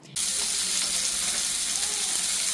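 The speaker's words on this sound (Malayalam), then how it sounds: "പിന്നെ ഇതാ നമ്മൾ ഫിഷും പൊരിക്കുന്നുണ്ട് കേട്ടോ" Fish frying in a hot pan in a home kitchen, a sudden onset of dense, steady sizzling hiss that continues loud and unbroken to the end.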